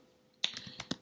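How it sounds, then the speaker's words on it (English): Fingers tap quickly on a computer keyboard, about five or six crisp keystrokes in a short close burst after a brief quiet moment. "I'm going to type in a server name that's known as"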